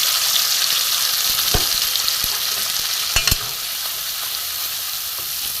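Spice masala being fried and stirred in a pan over low gas for a vegetarian cauliflower dish, a steady close sizzle with a few sharp scraping clinks of the spoon partway through, no voices.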